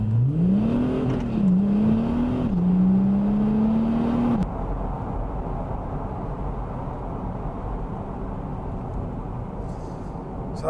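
Audi A5 3.0 TDI quattro launching hard under launch control, a loud rising engine note climbing through gears for about four seconds, then a steady broad roar of the car continuing at speed.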